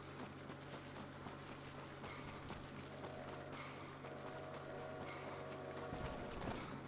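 Horse hooves clip-clop in the video game Red Dead Redemption, a rhythmic run of soft hoofbeats over a low steady hum and faint game ambience, quiet overall.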